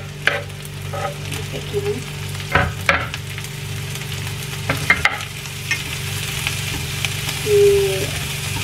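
Green mussels stir-fried with Chinese pickled mustard greens in a pan give a steady, close sizzle, broken by occasional scraping and clinking of a utensil as the food is stirred; a voice speaks briefly.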